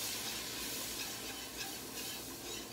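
Flour being whisked into half a stick of melted butter in a pan makes a faint, steady hiss and soft scraping, continuous and close with no voices.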